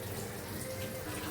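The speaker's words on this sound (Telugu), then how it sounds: "అందుకు కొంచెం వాటర్ వేస్తాను." Water is poured into a cooking pot while gongura chicken is being made, a soft, continuous trickling wash at low volume with no voices.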